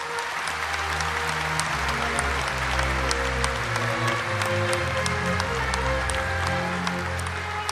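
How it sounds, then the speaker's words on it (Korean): Applause for independence veterans at a national Liberation Day ceremony, a large crowd clapping steadily and evenly over a backdrop of ceremonial music with sustained low tones, moderately loud and continuous. "나라를 위해 싸우신 독립유공자 여러분께 다시 한번 뜨거운 박수 부탁드립니다."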